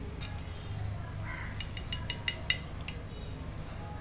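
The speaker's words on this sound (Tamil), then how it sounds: "நல்லா அந்த சர்க்கரைலாம் கொஞ்சம் கரையிற மாதிரி நல்லா மிக்ஸ் பண்ணி விட்டுருங்க" A spoon stirs sugar into grape juice in a metal vessel, giving a quiet run of light clinks and taps that cluster midway with a couple of sharper strikes, then fade back to near silence.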